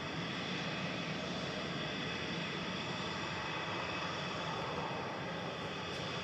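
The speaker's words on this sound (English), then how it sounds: "So that was the EasyJet 729 to Jersey GEZWD A320 Classic" An EasyJet Airbus A320 Classic, flight 729 to Jersey, departing Manchester Airport, heard as a constant distant jet roar, faint and even across the whole stretch, with no talk over it.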